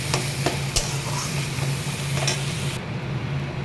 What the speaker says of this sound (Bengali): দিয়ে দেবো নেড়ে চেড়ে নিচ্ছি।